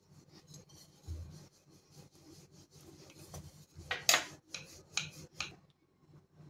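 Dough for Indian methi chaat is rolled out by hand, with soft rubbing and light wooden knocking of a rolling pin on a board, irregular and quiet, growing slightly louder toward the end.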